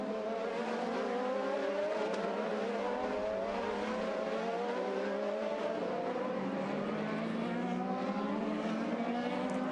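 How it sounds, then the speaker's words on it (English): IndyCar race cars at full throttle on the Surfers Paradise street circuit during the 2008 Gold Coast Indy 300, engines screaming continuously and loud with rising and falling pitch as cars accelerate and pass. "there is Alex Tagliani giving that car a good go here in the early stages of this race"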